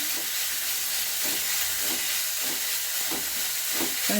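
Boneless chicken for a samosa filling sautés in a pan, giving a constant loud sizzling hiss with regular scraping strokes from stirring, close up and with no voices.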